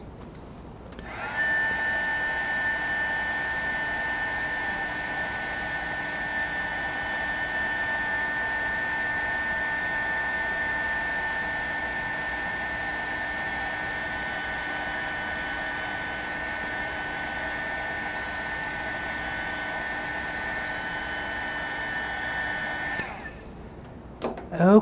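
A hair dryer blows steadily and loudly at close range for about twenty seconds to dry paint on a painting of a pink rosebud, with a high whining tone, then switches off.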